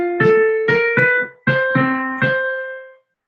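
A piano chord is played choppily, the thumb sliding from one note to the next, giving about six clear, close, ringing attacks in two groups that then fade out alone.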